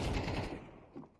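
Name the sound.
gunfire shooting through a wall in video game CS2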